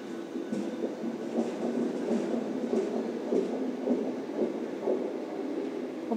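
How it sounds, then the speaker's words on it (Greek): An old Athens metro train passing at Thiseio station, heard as a steady low rumble and rattle of wheels and carriages at moderate distance with faint clatter, no voices. "Αυτό είναι το παλιό το μετρό."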